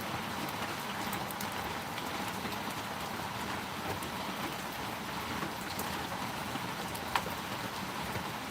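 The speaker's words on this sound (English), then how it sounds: "Looks like it's gonna stop raining too." Rain falling steadily as a dense, even patter with scattered drips and a few sharper taps close by, with no voices.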